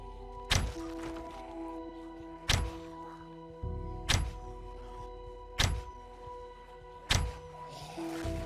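A compound bow reloads in Project Zomboid, making five heavy mechanical thunks at an even pace about one and a half seconds apart over a steady low hum.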